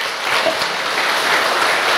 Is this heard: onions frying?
no